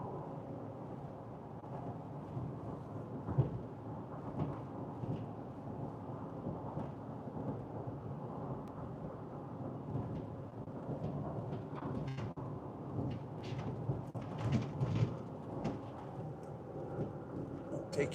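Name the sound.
thunderstorm on the Colorado plains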